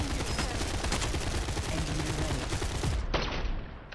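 Rapid, continuous automatic turret fire in the game Cepheus Protocol, a dense stream of loud shots that cuts off abruptly near the end.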